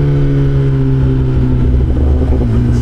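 Loud, steady roar of a motorcycle exhaust on the road, a deep continuous drone with a slight rise and fall in pitch, close up and filling the whole stretch with no voices.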